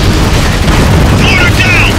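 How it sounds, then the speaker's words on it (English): A loud, dense rumbling blast fills the whole stretch as an RPG destroys a mortar in the video game Spec Ops: The Line, with gunfire and shouted voices layered over the boom. "Use that RPG to take it out!"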